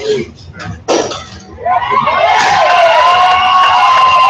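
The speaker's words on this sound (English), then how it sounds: "I can't hear anything over the crowd." Crowd noise at an armored combat match (KnightsMares vs Highlanders, ACL combat) swells into a loud, sustained roar of cheering that drowns everything else, following a few sharp clanks and voices near the start.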